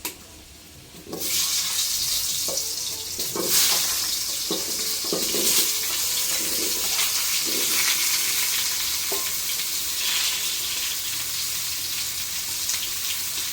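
Cut potatoes dropped into hot mustard oil in a wok burst into a loud, steady sizzle after a brief quiet start, with occasional stirring scrapes and no talk.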